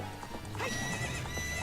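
A horse in Zelda: Ocarina of Time whinnies briefly over a busy game soundscape of hooves and a background music bed, with moderate loudness and no talking.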